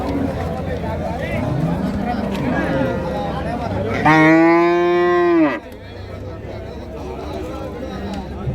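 A cow lets out one long, loud moo amid the chatter and bustle of a crowded Wednesday morning cattle market in Honnali, Davanagere.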